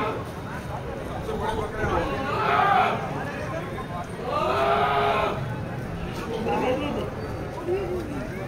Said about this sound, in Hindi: माशाल्लाह बहुत अच्छा बकरा